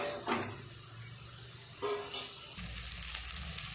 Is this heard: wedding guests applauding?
no